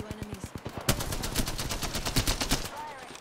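Gunfire in a video game firefight: a few quick, separate shots, then a sustained rapid automatic burst of sharp cracks that stops abruptly, loud and close.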